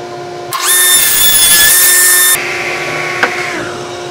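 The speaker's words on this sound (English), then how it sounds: "This part I'm going to cut at an angle on my saw here to give me that slope I need" A bandsaw cuts an angled slope into a wooden board for a scroll saw body: a loud, steady, high whining cut lasts about two seconds, then the saw keeps running more quietly with a single sharp knock near the end.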